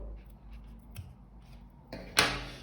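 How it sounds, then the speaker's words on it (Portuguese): Scissors snip the excess cord on a handmade macramé and crochet table runner, giving one or two crisp, close cuts after quiet handling noises. "Posso cortar bem rentezinho o excesso."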